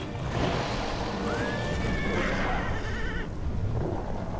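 A horse whinnies loudly in a video game, a wavering neigh rising and falling over a rumbling background, with faint hoof sounds.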